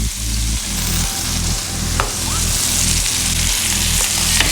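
Bacon-wrapped pork tenderloin sizzles loudly in a pan, with a continuous close frying hiss, occasional sharp pops and a low pulsing hum running underneath.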